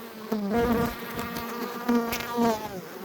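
Honey bees buzz steadily and close during a hive honey harvest, a dense droning hum with wavering pitch as individual insects pass near, with no talking.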